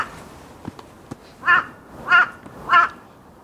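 A crow caws three times outdoors from a high vantage point in Busan, South Korea, the harsh calls evenly spaced and fairly close, preceded by a few faint clicks.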